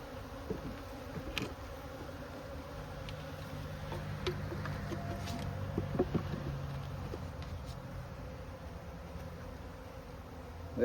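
Honey bees buzz around hives in a bee yard during swarm season, a continuous close hum with individual bees drifting past the microphone over light outdoor air.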